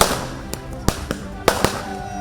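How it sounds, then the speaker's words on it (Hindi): Diwali fireworks and firecrackers set off by BSF soldiers at the Jammu and Kashmir international border, several sharp bangs spaced irregularly over a steady crackling, hissing background. "जमकर आतिशबाजी की, पटाखे फोड़े।"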